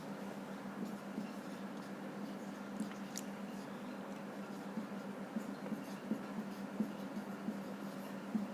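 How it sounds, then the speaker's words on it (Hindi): Faint chalk or marker strokes scratch and tap across a classroom board as a maths question on quadratic equations is written out, with soft irregular scrapes and light knocks against a quiet room background. "जब तक मैं सवाल लिख देता हूँ"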